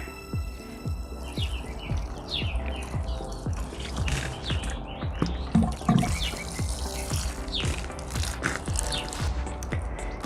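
Water trickles and drips into a potted silver squill plant, wet splashes and soft squishing soil close by, with birds chirping in the background.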